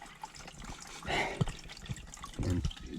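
Dirty water drains out of the opened filter of a Miele washing machine into a catch container, a quiet trickling and splashing stream with a few louder spurts, close by.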